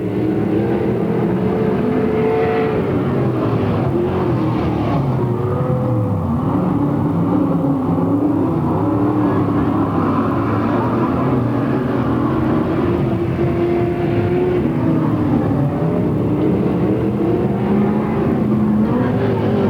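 Engines of 360 sprint cars roar continuously around a dirt oval at Marysville, California, several cars close together in a loud, unbroken drone that rises and falls as they race through the late laps.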